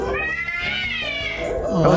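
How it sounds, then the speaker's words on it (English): A cat meows in a short, close, wavering cry that rises at the end, with no talk over it. "Oh, that a cat?"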